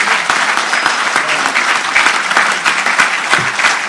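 Audience at a live Urdu dastangoi storytelling performance in Abu Dhabi applauds steadily, a dense, continuous burst of clapping filling the room at close range throughout, with no speech over it.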